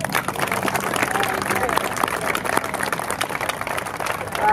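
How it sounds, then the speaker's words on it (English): An audience at the Niagara Centennial opening ceremony applauds a colleague, with steady, crowded clapping mixed with a murmur of voices throughout. "I just wanted to give a round of applause for him"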